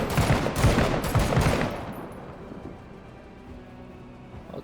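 Several heavy gunshots in Menace, a few loud close reports in quick succession, each followed by a long fading echo that trails off into quiet.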